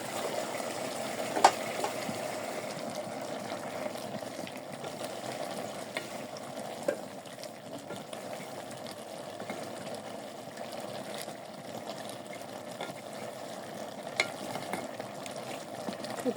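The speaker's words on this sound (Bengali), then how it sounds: "দিয়ে দিচ্ছি কয়েকটা কাঁচামরিচ" Green chilies fry with banana flower in a pan, making a low, steady sizzle for a long stretch, broken by a few faint clinks and stirring taps, with no talking.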